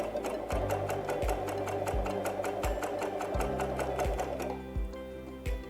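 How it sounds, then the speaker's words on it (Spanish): Janome 2000CPX coverstitch machine running through a scrap of jersey fabric, a steady mechanical hum with rhythmic stitching clatter and periodic low thumps, close and continuous, slowing toward the end, with no talking. "Vamos a comenzar probando la máquina con un retazo de tela."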